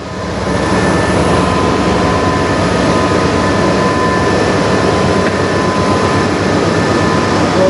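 A CN freight train breaking apart in a tunnel after an emergency brake application gives a loud, steady rumbling roar with a faint tonal whine. It sounds close and continuous, with no voices.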